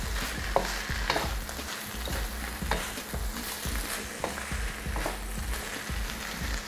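Cabbage and shiitake mushrooms are stir-fried in a pan for a Malaysian vegetable dish, with a constant close sizzle and frequent stirring clacks and scrapes throughout. No one talks.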